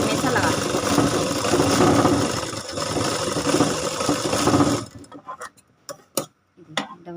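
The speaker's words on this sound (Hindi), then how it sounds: "इस बाजू में भी हम डबल सिलाई लगा लेते हैं" Sewing machine running a double line of stitching on a suit sleeve, a continuous close mechanical rattle for about five seconds, followed by a few scattered clicks and handling noises.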